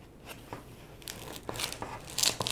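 Scissors cut a small piece of foam for a DIY solar pool ionizer, with soft crunching snips and faint crinkles close by, rising slightly toward the end.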